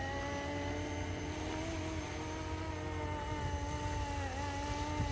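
RotorScale UH-1 Huey RC model helicopter in flight on a windy day, a steady droning rotor and motor whine with sustained tonal harmonics, constant and moderately close, with no voices.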